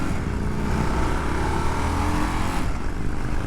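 A 2025 Indian 101 Scout motorcycle engine pulls under acceleration, a steady, close, loud rumbling drone with a rising tone that holds throughout and eases slightly near the end.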